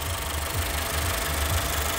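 A warmed-up Nissan Qashqai engine idles steadily after running for about 40 minutes, a continuous low mechanical rumble with a faint knocking pulse, close and even, with no voices.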